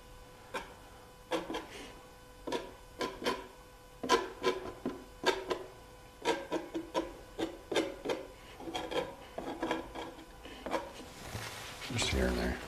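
A hand tool scrapes a surface in a run of short, irregular, close strokes, each a dry rasp separated by brief pauses, with a faint rustle near the end.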